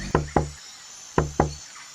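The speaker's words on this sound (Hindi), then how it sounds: "तभी उनके घर के दरवाजे पर दस्तक होती है" Knocking on the door of a house: two quick pairs of firm, close knocks separated by a short pause, loud and crisp with no voices.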